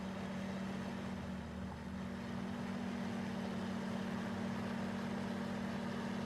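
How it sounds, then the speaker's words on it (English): In Farming Simulator 19, an underpowered farm tractor pulls a planter, its engine a steady, droning hum with a constant low tone throughout and no voices. "this tractor doesn't really quite have enough horsepower for this here"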